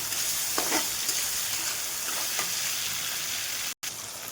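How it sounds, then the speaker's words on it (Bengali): Fish kalia curry gravy bubbles and fries in a pan as a spoon stirs it with a few soft scraping strokes over a moderate, steady sizzle, broken once by a brief dropout near the end. "এটাকে আমি নেড়ে নাড়বো। এটা এবার নাড়তে থাকবো আমি।"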